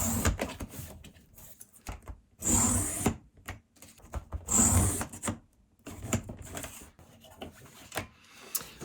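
A paper trimmer slices through a printed Blu-ray slipcover in two distinct bursts of sliding, scraping cuts, close and clear, among softer handling rustles and taps of paper.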